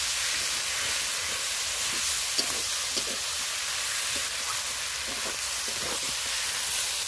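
Goat meat braising in a covered pan with little oil and spice, giving a steady, moderately loud hissing sizzle throughout with faint occasional pops and stirring clicks, no voices.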